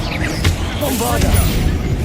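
Steady, heavy rumble with a sharp crashing burst from a Bombarda spell explosion in the video game Hogwarts Legacy, blended into ongoing combat noise with voices.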